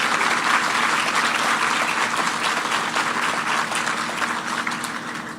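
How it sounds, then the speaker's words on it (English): Loud, sustained applause from a large audience at a South Carolina Teacher of the Year ceremony honoring sponsors, a thick continuous roar of clapping that eases slightly in the final seconds. "Please join me in giving a round of applause for our sponsors."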